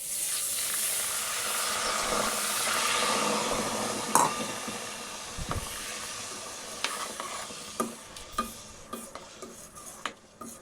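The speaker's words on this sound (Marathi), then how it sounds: "एकदा चांगली उकळी येऊ द्यायची." Milk and water sauce with butter and flour heating toward a boil in a pan, giving a soft steady bubbling hiss with occasional stirring clinks and scrapes, fairly quiet and without talk.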